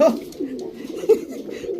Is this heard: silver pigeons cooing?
yes